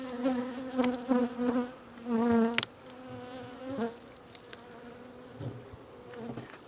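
Honeybees buzzing in a weak, sparsely populated hive with a little smoke applied: a few close, distinct buzzing flights with wavering pitch, some bursts louder as bees pass near, then quieter scattered buzzing.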